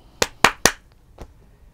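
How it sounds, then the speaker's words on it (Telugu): Hands clapping: three quick, sharp claps in a row, then a single softer clap after a short pause, close and alone with no talk over them. "ఈ క్లాప్స్ ఎందుకు కొడుతున్నా అనుకుంటారా"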